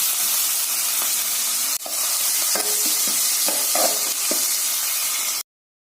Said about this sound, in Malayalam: ഇതിലേക്ക് വെളുത്തുള്ളി, ഇഞ്ചി, കറിവേപ്പില ഇട്ട് മുളപ്പിക്കുന്നു.